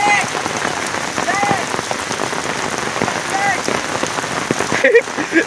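Steady rain patters on surfaces outdoors during a monsoon downpour, dense and close, with voices talking over it.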